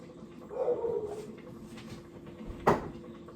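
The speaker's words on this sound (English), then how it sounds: "I don't know why he's barking." A dog barks once, sharp and fairly close, in an outdoor yard where turkey wings are being oiled for cooking. The bark stands out briefly over low background noise and a faint earlier rustle.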